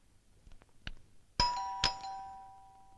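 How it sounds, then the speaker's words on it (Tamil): A doorbell rings out twice, a sharp electronic ding followed by another, ringing on and fading in an otherwise quiet room after a few soft knocks. "காலிங் பெல் அடிக்குது"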